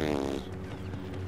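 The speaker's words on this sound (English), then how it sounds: "Fart noises." A fart noise in the Star Wars Battlefront video game, a buzzy, wavering blurt that trails off into quieter game background sound.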